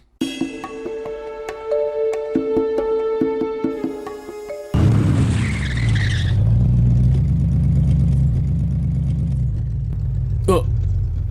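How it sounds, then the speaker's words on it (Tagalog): A car's engine rumble arrives abruptly after a stretch of tonal music and holds as a steady, close drone, with voices faintly mixed in. "Kanindot aning kutsi nga ni abot ha."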